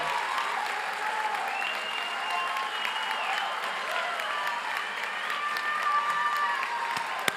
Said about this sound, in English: as we applaud your outstanding efforts